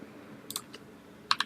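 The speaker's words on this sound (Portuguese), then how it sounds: "Agora eu estou digitando esse valor aqui, ó." A computer keyboard is typed on during a lesson on matrices, a few separate light key clicks in short bursts, fairly close and clear over a quiet background hiss.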